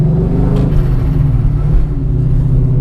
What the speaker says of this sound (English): Bit of a hill start.